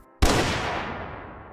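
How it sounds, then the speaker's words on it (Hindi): A pistol fires once, a sudden loud crack with a long, fading tail after a brief quiet. "2 सेकंड बाद 2 गोलियां।"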